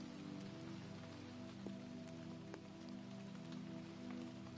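Steady, gentle drizzle falls continuously with a soft, even patter of raindrops on a surface, with a low hum underneath and no voices.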